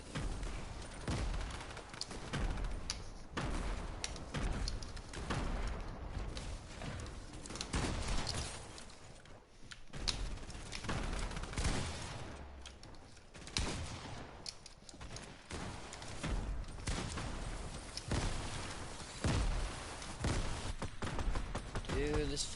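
Grenade blasts and gunfire from a first-person video game shooter played on keyboard and mouse form a dense, continuous barrage of bursts and booms, with someone talking over the action.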